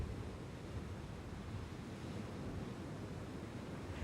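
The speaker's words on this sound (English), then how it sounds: "The result is a breaking wave or surf as it crashes to the shore." Ocean surf breaks on the shore in a steady, fairly faint wash of noise, continuous and even with no distinct individual crashes and no voices.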